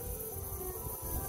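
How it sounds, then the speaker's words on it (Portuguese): Crickets chirp in the rural countryside of the Serrote settlement near Arapiraca, Alagoas, Brazil, making a steady, faint, high trill under a soft background hiss. "ouvindo aqui só o barulho aqui dos grilos"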